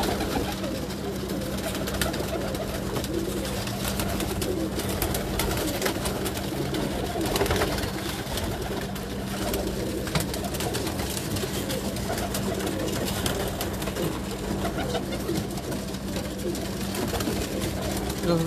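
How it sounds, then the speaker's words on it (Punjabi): Several pigeons coo in a steady low murmur throughout, with bird calls layered over constant background noise and a faint voice now and then. "ਕਰੀਚੇ ਪਏ ਨੇ ਸਾਰੇ ਕਬੂਤਰ"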